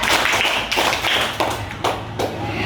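A classroom group clapping a four-beat pattern in unison, sharp close claps in short bursts spaced about half a second apart, loud and clear with no talking over them.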